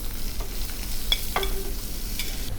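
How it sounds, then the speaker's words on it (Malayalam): Chopped onions tipped into a hot pan and stirred for a shrimp and tapioca biryani, giving a brief scrape and clatter of the spoon over a steady low sizzle, with no voices. "ഇനി ഇതിലേക്ക് സവാള സവാള അരിഞ്ഞു വെച്ചിരിക്കുന്ന സവാള ഇടുകയാണ്"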